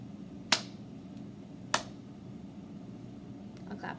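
Two sharp, isolated claps ring out about a second apart, crisp and close against a quiet room hum, with faint softer taps trailing at the end.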